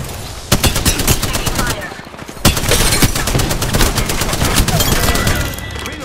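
The Rampage gun in a video game fires continuously and loudly, a dense stream of rapid shots with a couple of sharper impacts, while a voice speaks over the gunfire.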